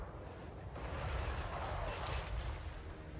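Cannon artillery firing in Warhammer 3, dwarf gunpowder units, a dense continuous roar of booming blasts and rumble with no clear gaps between shots, loud and steady throughout.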